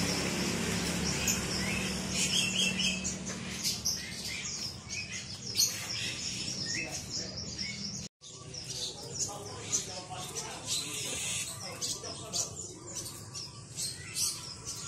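Bright, varied oriental magpie-robin song with quick chirps and whistles, heard in a bird shop amid busy background chatter and other chirping birds, with a brief cut midway.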